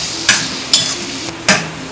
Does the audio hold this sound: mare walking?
no